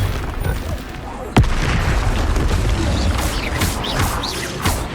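The Confringo and Bombarda spells explode in the video game Hogwarts Legacy. One sharp, heavy boom lands over ongoing rumbling game noise, followed by further crackling impacts and whooshing effects.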